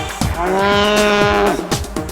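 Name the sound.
cow mooing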